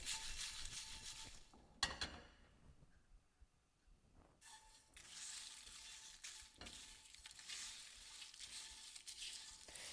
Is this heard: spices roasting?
yes